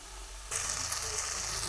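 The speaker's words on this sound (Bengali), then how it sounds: "গ্যাসের ফ্লেমটা একদম বাড়িয়ে নিয়ে সুন্দরভাবে ভেজে নিচ্ছি।" Drumstick flowers frying in a pan over a high gas flame, a steady bright sizzle that starts abruptly after a quiet moment and continues close and even.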